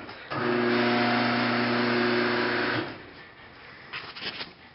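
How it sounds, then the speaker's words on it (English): Garage door opener motor with a stripped gear runs at a steady, loud hum for a couple of seconds, then cuts off, leaving a quieter background with a few faint clicks. "So as you can see, the motor's running, but nothing else is happening."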